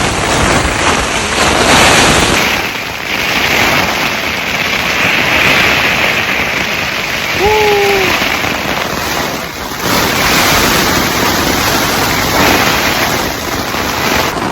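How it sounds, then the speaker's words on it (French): Strong gusts of wind on Mont Blanc during a storm with rain and hail: a loud, broad roar that swells and eases in waves, with a brief faint whistling tone partway through. "des grosses rafales de vent"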